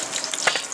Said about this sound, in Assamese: এতিয়া মাছখিনি ফ্ৰাই কৰি হৈ গৈছে